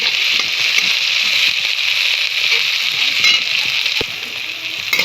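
Potatoes and green chillies sizzle and crackle steadily in a hot pan, fried with coriander, while a spoon stirs them with occasional soft scrapes and one sharp clink; close, continuous frying with no talk.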